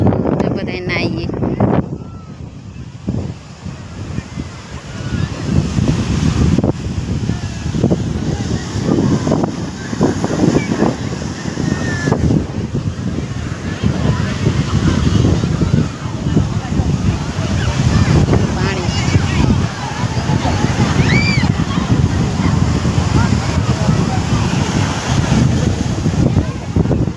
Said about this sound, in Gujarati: કેવા મોજા